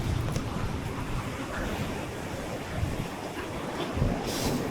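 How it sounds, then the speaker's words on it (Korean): Large ocean waves crash and surge steadily onto a beach under dark storm clouds, a loud continuous roar of surf with wind buffeting the microphone and no talking. "이 파도 소리"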